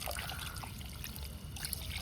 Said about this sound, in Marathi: मटण सगळं धुवून घ्यायचं